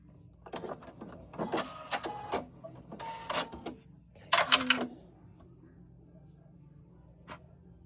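A sewing machine stitching a cushion seam runs in several short bursts of quick mechanical whirring and clicking, fairly close, with brief pauses between runs and a quiet room behind.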